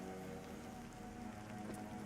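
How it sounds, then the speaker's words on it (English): Soft, steady rainfall begins in the fantasy MMO Pantheon, a faint, even hiss of drops on surfaces with a low ambient hum beneath and no voices. "So as it starts to rain"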